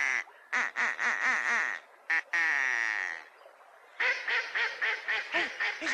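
A man imitates a duck with his voice, giving bursts of loud, nasal quacks in a quick series, then a sustained drawn-out call and another run of rhythmic quacks.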